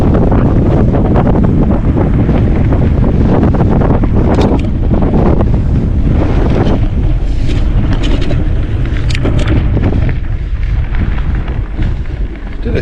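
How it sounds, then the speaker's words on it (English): Strong headwind, around ten miles an hour, roars across the microphone during a mountain bike ride on a hardtail in Simi Valley, a loud continuous buffeting rush that fills the whole stretch with no voice over it. "Probably a good 10-mile-an-hour headwind right here"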